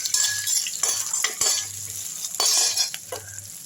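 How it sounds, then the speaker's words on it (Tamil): Dried red chillies and tamarind sizzle steadily in hot oil while a utensil stirs and scrapes the pan, with a few clinks against the metal and no talking. "அதில் காஞ்ச மிளகா போட்டுக்கோங்க. ஒரு 2 நிமிஷம் நல்லா வதக்கி விட்டுருங்க. இந்த புளியும் இதிலே போட்டுங்க"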